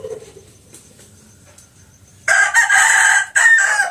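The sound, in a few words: rooster crowing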